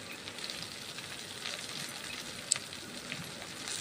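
Sesame seeds dry-roasting in a pan for moringa leaf powder, a steady, soft crackling sizzle throughout with light stirring scrapes and one brief sharp tick.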